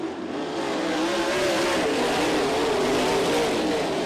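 USAC national sprint cars roar around the Ocala Speedway dirt oval, a loud continuous engine drone rising in pitch as the pack passes at speed.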